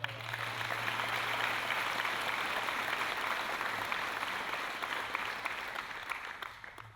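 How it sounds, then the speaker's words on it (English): An audience applauds at a military change of command ceremony for a fighter wing, a fairly faint, even wash of clapping heard from a distance that holds steady and then tapers off toward the end. "How about a round of applause for Tank Leonard?"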